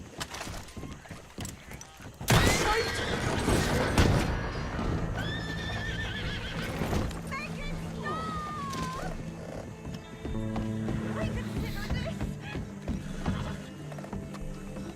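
Horses whinny repeatedly over steady clopping hooves and clattering noise in Red Dead Redemption II, with a loud burst of impact sounds early on.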